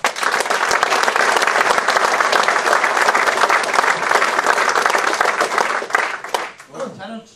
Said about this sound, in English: big round of applause please for Mr.